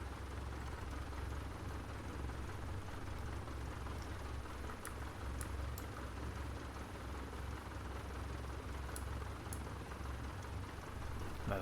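Other aircraft engines droning in Microsoft Flight Simulator during a group flight over San Francisco: a steady, dense low rumble with no breaks for about twelve seconds, plus a few faint high clicks.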